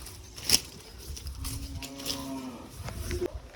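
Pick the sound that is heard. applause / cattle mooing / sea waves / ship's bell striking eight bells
cattle mooing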